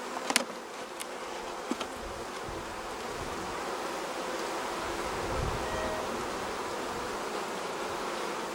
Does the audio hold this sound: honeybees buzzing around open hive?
yes